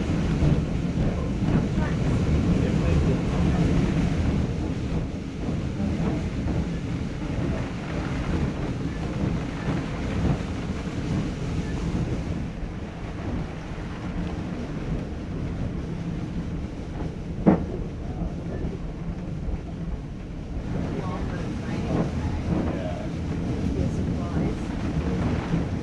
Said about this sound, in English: it's a great chance to listen to our full engine